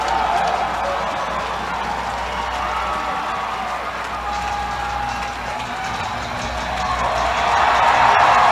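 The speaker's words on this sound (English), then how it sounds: "And that'll bring a cheer from the crowd." Ice hockey crowd at a North Bay Battalion vs. Erie Otters junior game roaring steadily after a fight on the ice, a broad wash of cheering and clapping that swells louder near the end.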